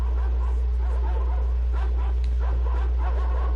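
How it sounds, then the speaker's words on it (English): Dogs barking in the post-apocalyptic video game Metro Exodus, a jumble of yips and barks under a loud steady low drone, fairly close. "because the dogs, that's what's barking at you, is the dogs"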